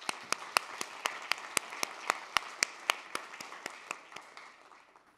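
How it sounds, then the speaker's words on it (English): A small audience at an academic symposium claps, the individual hand claps sharp and distinct at first, then thinning and fading away over about five seconds. "So if we could give them a round of applause."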